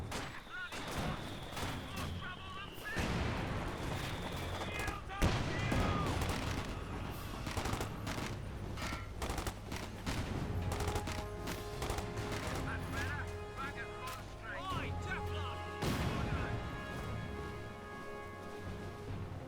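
Cannon and MG34 machine gun fire in a Company of Heroes 2 multiplayer battle, dense continuous bursts of gunfire and booming shots layered over battle noise and music-like tones throughout.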